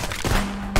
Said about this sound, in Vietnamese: Rồi bây giờ lấy súng shotgun ra đi, còn nhiều đạn shotgun này.